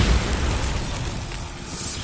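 A Bombarda blasting spell detonates in the Hogwarts Legacy video game, a loud, dense boom that rumbles on with sustained low crackle for about two seconds, with no voices.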